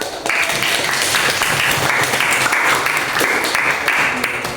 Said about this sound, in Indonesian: Nah, yuk, mari aplaus.